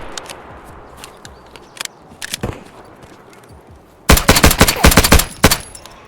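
Pistol fire in the shooter game Escape From Tarkov: a few sharp isolated shots and footsteps, then a rapid burst of loud, close cracks in quick succession.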